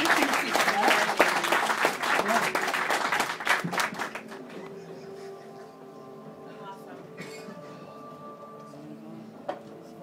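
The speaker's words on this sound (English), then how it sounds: "Another round of applause for the first three volunteers." Audience applause for volunteers at a live comedy hypnosis show in a small venue, a dense burst of clapping for about four seconds that fades to quiet room tone.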